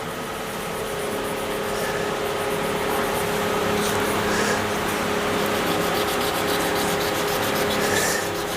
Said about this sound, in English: Mesmerised by the sanding